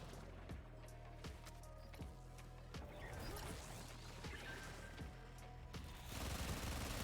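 Rapid bursts of gunfire from the video game Warframe, played on PC while farming Harrow Prime, repeat at a steady, punchy rhythm over a dense, busy backdrop of game effects, loud and continuous throughout.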